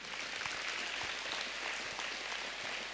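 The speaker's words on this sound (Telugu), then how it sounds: "Good round of applause to Khyati." An audience in a school hall applauds a student, a dense, even wash of many hands clapping at a distance, sustained without pause.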